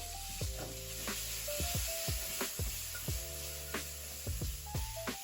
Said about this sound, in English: Now let's throw in the red bell pepper.